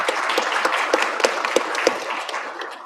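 An audience applauds in a hall, a moderate spread of clapping with a few sharper, evenly spaced claps standing out, fading slightly toward the end with no talk over it.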